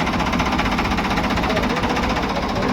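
A tractor engine runs close by with a loud, rapid, even diesel knocking chug that holds steady the whole time, with no voices over it.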